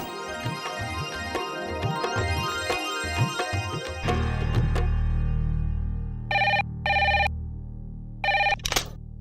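An old-style telephone bell rings in two short bursts and then again, loud and close, after a stretch of background music with rhythmic beats that gives way to a sustained tone; no one speaks.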